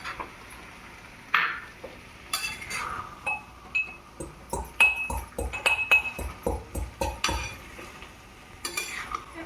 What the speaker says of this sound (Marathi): तोपर्यंत मी विलायची कुटून घेते.